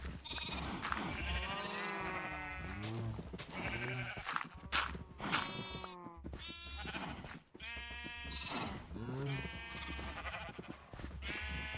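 A flock of game sheep in a Minecraft-style world bleats over and over, loud overlapping calls following one another steadily for several seconds, with no talking.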